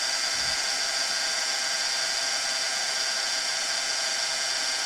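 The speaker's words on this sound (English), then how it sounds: "And then I'm going to bring in my heat tool." A heat tool held over embossing powder on a stamped card gives a steady, close blowing whoosh with no pauses and no talking.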